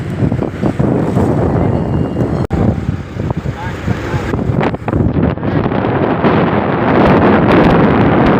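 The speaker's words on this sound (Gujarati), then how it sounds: "એક નંબર 80 જેવો પવન આવે છે." Strong wind buffets the microphone throughout on an outdoor trip around Mahuva, a loud continuous roar with gusty surges and a brief dropout partway through.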